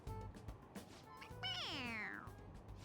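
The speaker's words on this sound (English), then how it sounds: "It's, a toy. It meows when you press on its head." A pressed toy cat in Persona 5 Royal gives one drawn-out meow with a falling pitch, preceded by brief quieter squeaks over low background game sound.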